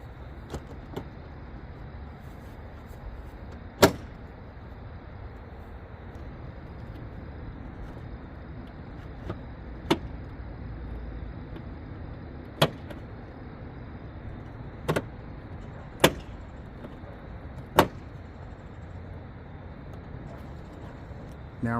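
Plastic bumper clips on a 2023 Honda Accord Hybrid Sport front bumper snap into place, producing a series of crisp, isolated clicks spaced a few seconds apart over a steady low background hum.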